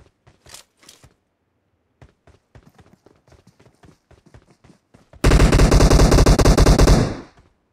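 Machine gun fire in a multiplayer shooter video game: a series of soft footstep-like taps, then a sudden loud, sustained automatic burst of about two seconds that trails off.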